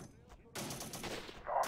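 Sniper fire from a recon team rings out in the SW Warfare Oriental Conflict mod as a quick burst of sharp, distant cracks, faint and fairly quiet overall, with a louder pop at the end.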